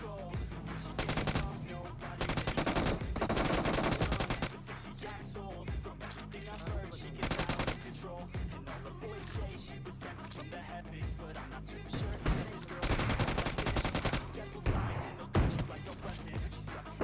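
Rapid bursts of gunfire from the battle royale video game BGMI, with repeated sharp shots clustered in loud volleys and short pauses between them, mixed with game music and effects throughout.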